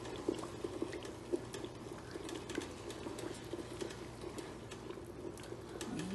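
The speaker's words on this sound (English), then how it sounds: "Let's cover it up and let it simmer" Chicken stew simmers in a covered pot, giving a soft, steady bubbling patter with small irregular pops, faint and close, continuing without break.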